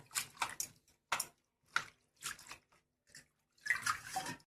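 Thankuni leaves being rinsed by hand in water, with short bursts of splashing and swishing separated by brief pauses, close and moderately loud.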